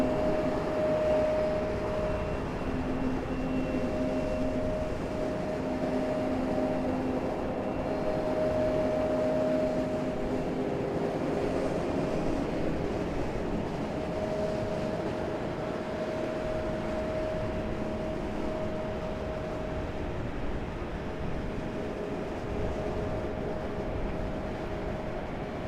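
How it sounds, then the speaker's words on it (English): A Delta Boeing 757 airliner arrives at Raleigh-Durham airport, its engines a steady, moderately distant jet roar that holds level throughout with a faint tonal whine. "here it is, our Delta 757 arriving from Louisville."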